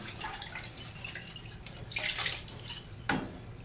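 Water sloshing and dripping as a homebrew bottle is dunked and rinsed in a tub of rinse water, soft continuous splashing with a sharper splash near the end, no voices.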